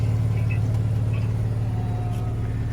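Deep, steady rumble of a car exhaust idling with its exhaust valves switched, a low throbbing drone heard close and loud throughout.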